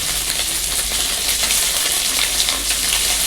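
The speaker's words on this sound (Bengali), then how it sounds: "গাইস, পটল ভাজছি এখন।" Pointed gourd (potol) fries in a pan with a loud, dense, continuous sizzle close by, steady throughout with light crackling and no voices.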